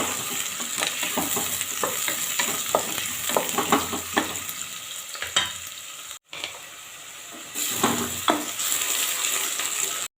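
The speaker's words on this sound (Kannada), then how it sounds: "ಕಟ್ ಮಾಡಿ ಇಟ್ಕೊಂಡಿರುವ ಈರುಳ್ಳಿ ಹಾಕ್ತಾ ಇದ್ದೇನೆ ಇದನ್ನು ಚೆನ್ನಾಗಿ ನಾವು ಫ್ರೈ ಮಾಡ್ಕೋಬೇಕು" Chopped onion sizzles loudly in hot oil in a pan for a chicken curry, with repeated scraping stirs, a brief drop to near silence partway, then the frying resumes.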